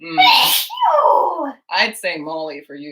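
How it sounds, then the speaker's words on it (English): One loud, sharp sneeze from a person making gnocchi in a home kitchen, followed at once by people talking and reacting nearby. "What? I just sneezed."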